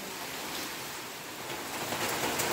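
Steady rain falling through the night in a Konkan village during Ganesh Chaturthi, a dense continuous hiss with no pauses, close and even in level, swelling slightly toward the end, with no voices over it.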